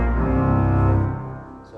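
Pedal division of a church pipe organ in a sanctuary, sub-bass 6, super octave 4, open flute 4 and trumpet 8 drawn together, holding a loud, deep sustained chord that fades slightly toward the end.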